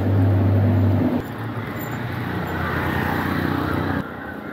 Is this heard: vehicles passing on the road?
yes